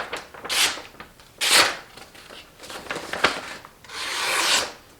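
A knife blade is drawn across a diamond stone on a TSPROF Blitz guided sharpening system, giving close, gritty rasping strokes in uneven passes with brief pauses between them.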